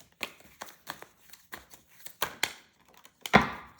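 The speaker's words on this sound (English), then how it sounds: "I'm just guided to really shuffle hard." Tarot cards shuffled hard by hand during a reading, a series of sharp riffling slaps and snaps in an uneven rhythm, close and alone without talk.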